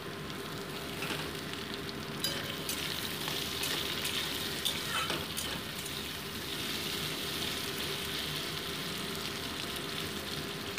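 Potato and chopped onion fry in a little oil with a soft, steady sizzle and light hiss, occasional stirring scrapes near the start, close and fairly quiet throughout.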